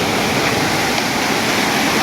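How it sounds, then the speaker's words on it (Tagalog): Loud, continuous rush of fast-flowing mountain river water swollen after a typhoon, a dense steady roar with no voices. "kita nyo naman lumakas ang agos ng ilog"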